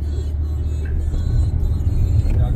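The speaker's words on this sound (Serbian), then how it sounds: "Čuje sad kako se čuje auto." An Audi RS5's engine and exhaust rumble steadily at close range with a low, throaty drone that swells slightly toward the end, with no clear revving bursts.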